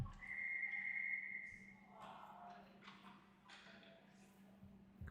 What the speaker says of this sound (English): Whistle's blown dead as the puck was still free